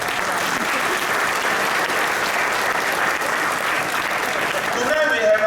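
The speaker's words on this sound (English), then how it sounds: "Give yourself a round of applause." Applause from an audience at an evening event with VIP guests, a steady wash of many hands clapping at full strength throughout, with a few voices rising near the end.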